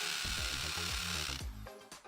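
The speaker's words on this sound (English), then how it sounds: "We use the drill to make a hole in the wall." Electric power drill running in a steady whine used to bore a hole in a wall, loud and close, then slowing and cutting off near the end.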